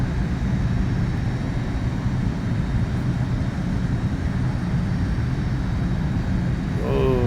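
A Premier 1A jet airplane cruises in a flight simulator game, a steady, continuous broadband roar of engine and airflow holding at an even level throughout, ending with a brief rising tone.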